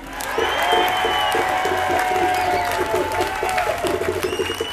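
A large outdoor crowd applauds and cheers for a Melbourne state parliament member's introduction, with dense sustained clapping and whoops filling the space throughout, steady and loud.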